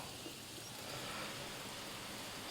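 Rain falls across the forest in the survival game Green Hell, a soft, even hiss of drops that stays faint and unbroken throughout.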